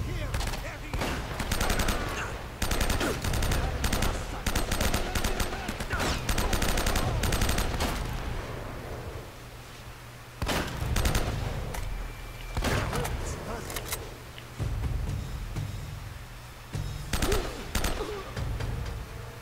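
Gunfire bursts in the Uncharted action video game, rapid loud volleys repeating through most of the stretch with short gaps, under game sounds and occasional talk.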